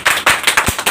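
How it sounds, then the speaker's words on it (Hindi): An audience bursts into rapid, loud clapping at a lecture, a steady close patter of hands with no voices heard. "इस पर तो कम से कम ताली बजनी"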